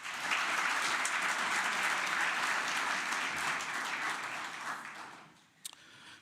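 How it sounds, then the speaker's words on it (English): Graduation ceremony audience in Johannesburg applauds EIT staff, a broad steady round of clapping that tapers off near the end, followed by a few scattered claps. "So can we please give them a round of applause?"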